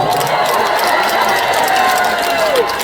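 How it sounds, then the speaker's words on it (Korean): A large outdoor crowd at the opening ceremony of the Geumsan samgyetang festival claps and cheers in a loud, dense, continuous wash, with a thin whistling tone running through it. "다시 한 번 박수 한번 주세요"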